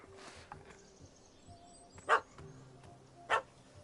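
A dog barks at a man who has climbed a tree in The Witcher 3: Blood and Wine, two clear separate barks over quiet game ambience, with softer dog sounds before them.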